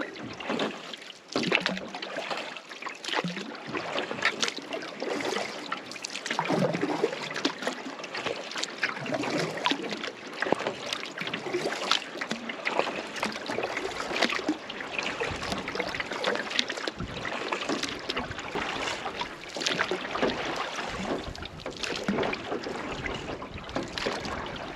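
Double paddle strokes push a canoe across choppy lake water in the Boundary Waters of Superior National Forest, giving steady splashing and dripping that runs continuously and fairly close, with no talking.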